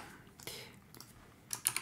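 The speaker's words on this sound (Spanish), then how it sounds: "cuando escribo que el teclado hace mucho ruido, pero me he comprado uno mecánico" Keys clatter on a mechanical computer keyboard in short irregular bursts of clicky strokes, fairly close and moderately loud, with a faint murmur in the background.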